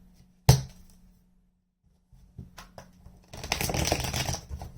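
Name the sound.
shuffling a deck of tarot cards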